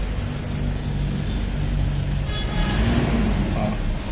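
A Toyota Innova diesel engine with a manual gearbox, low on power and showing a check-engine light, revs up. A steady low engine drone rises in a broad swell, with faint road and traffic noise around it.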